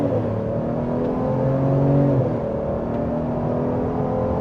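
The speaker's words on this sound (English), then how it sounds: "That first gear pull was serious." A 2026 Ford Explorer Tremor accelerating hard in first gear, heard from inside the cabin as a loud, rising engine drone that climbs in pitch before a brief shift dip, steady and close.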